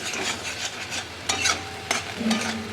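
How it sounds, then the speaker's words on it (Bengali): Spice paste frying in hot oil in a pan while a spoon stirs it, a steady sizzle broken by a few sharp scraping strokes, close and moderately loud. "ভালো করে ভাজতে হবে বাটনাটাকে, নাড়া পাবে না যতক্ষণ না তেল ছাড়ে।"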